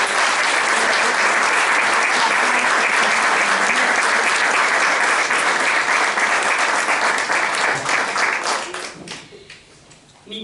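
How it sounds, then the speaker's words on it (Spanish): Audience applause fills a book launch for a poetry collection, a dense, steady roar of many hands clapping that holds strong for about eight seconds before tapering off to a few scattered claps and quiet. "Un aplauso."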